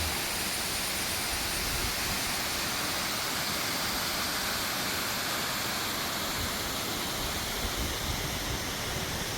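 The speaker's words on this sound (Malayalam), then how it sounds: "വെള്ളം അതിൻ്റെ മുകളിലൂടെ കയറിയാണ് ഇറങ്ങി വരുന്നത്" Steady roar of water pouring over a check dam on the Valiyar and Nachar rivers at the Triveni confluence, source of the Thodupuzha River; continuous and dense, with no speech.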